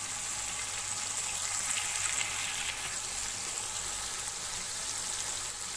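Tomatoes and peas frying in a pan for a pulao, giving a steady, even sizzle that stays level throughout with no talking.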